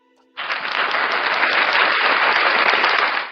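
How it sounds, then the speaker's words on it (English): A round of applause for a host who thanks followers joining the journey, steady dense clapping that starts abruptly and holds loud and even for about three seconds, with no talk over it. "Round of applause for y'all"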